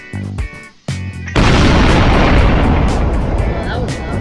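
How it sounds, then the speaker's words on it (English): A loud video-game explosion blows out a wall during a jailbreak, a sudden heavy blast that swells into a sustained roaring rumble after brief chatter and in-game sounds. "Now hold and press to explode the wall"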